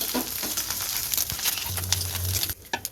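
Egg being stirred and frying in a wok while making restaurant-style chicken fried noodles, a close soft sizzle with scraping and tapping stir strokes.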